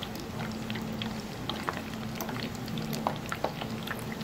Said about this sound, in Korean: 이렇게 마늘을 튀겨주면 고소하니 맛있고